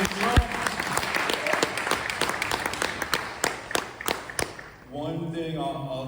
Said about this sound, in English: Can we all have a round of applause for Donald J. Trump?